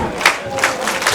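A wrestling crowd cheers and roars for Jason Joshua during a triple-threat match against Lance Revera and Jakk Sellstrom, a steady broadband swell of voices with brief surges of shouting.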